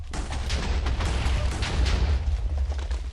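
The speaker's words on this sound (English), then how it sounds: "This is a good opportunity to show off the plasma cannon." A plasma cannon in the Minecraft Artillects mod fires at a drone, a dense continuous barrage of booming, crackling blasts that stays loud and steady throughout with no pauses and no voices.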